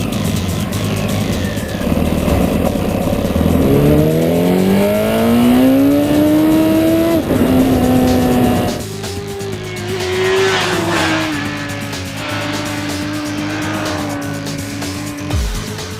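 A 2012 Honda CBR1000RR sport motorcycle revs hard on a racetrack at Infineon Raceway, its loud engine whine climbing through the gears, dropping and pulling again close by.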